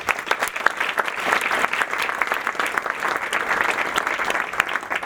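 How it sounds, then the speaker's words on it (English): Audience at a lunch event held at Ronnie Scott's claps in a steady round of applause, with many hands clapping fairly close throughout. "So can we do a quick round of applause?"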